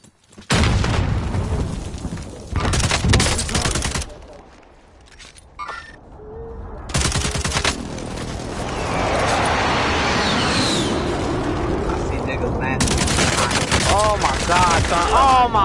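Gunfire in a PS4 firefight, with bursts of rapid automatic shots and booms that stop and restart across the stretch, building into sustained loud shooting and chaotic noise toward the end, with a voice faintly under it.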